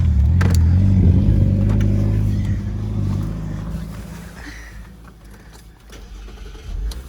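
A Dodge Charger's engine turns over and settles into a deep, loud rumble at a dealer car auction, then gradually eases to a steady idle, close by and with no talk.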